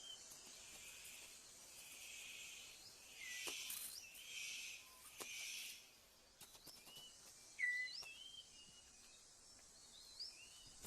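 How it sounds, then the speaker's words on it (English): A superb bird of paradise gives a series of sharp, high chirps and short whistled notes, scattered irregularly over a faint, quiet forest background. "The superb bird of paradise calls to attract a female."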